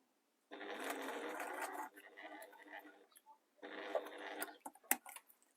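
A sewing machine stitches a fabric cafetiere cover in two close, steady runs of whirring, separated by a short pause, followed by a few scattered clicks and taps as the work is handled.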